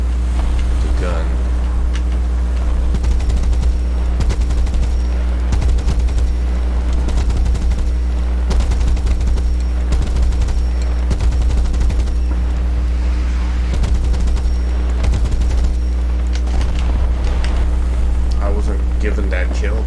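Repeated bursts from a Sd.Kfz.251/21 self-propelled anti-aircraft gun in War Thunder ring out over a constant low engine drone, with someone talking throughout.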